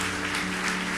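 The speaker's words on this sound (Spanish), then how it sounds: "Dale un aplauso fuerte a papá." A church congregation applauds loudly for the father during a Spanish-language worship service, a dense, steady wash of clapping filling the whole second with a low musical drone underneath.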